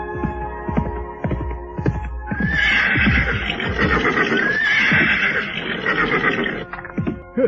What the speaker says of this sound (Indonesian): 2 ekor kuda telah berderap dengan cepat dan kemudian berhenti di sebuah persimpangan